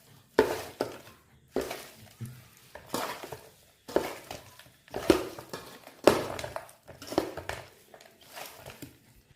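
Chicken pieces mixed by hand with masala and oil for dum biryani, giving repeated wet, squelching pushes roughly every second, each fading off, close and fairly loud with no talking.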